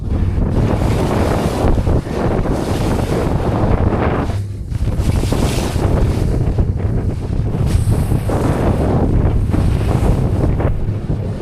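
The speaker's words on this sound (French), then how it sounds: "On a de grosses vagues qui arrivent ici." Big ocean waves and strong wind around a small fishing boat at sea, with a constant roar of wind buffeting the microphone and washing surf throughout, loud and close, with no talk.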